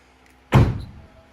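A single solid thunk of a Subaru WRX door shutting, close and fairly loud, with a short decay and no talking.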